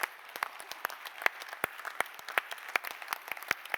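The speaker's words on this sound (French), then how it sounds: "On va les applaudir tous parce qu'ils font un travail incroyable." An audience at a French bridge federation assembly dinner claps steadily, a moderate patter of many hands at middling distance with sharp individual claps standing out.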